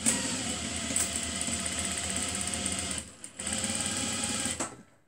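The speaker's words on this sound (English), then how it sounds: "As you stitch this and go ahead, the gathering is actually making it up for you, because I'm using a gather fold." A sewing machine runs steadily, stitching fabric through a gather fold for a skirt and top, its motor whirring continuously up close, with a brief pause near three seconds before it picks up again.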